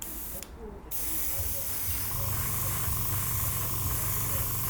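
An airbrush spraying Scale75 paint, a steady close hiss of compressed air that cuts out briefly near the start, then resumes and holds evenly under a faint low hum.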